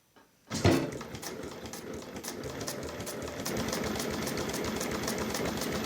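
A Dürkopp-Adler 366-76-12 industrial sewing machine starts up and runs steadily, a close, dense whirring stitch rhythm that begins abruptly and holds level without any talk.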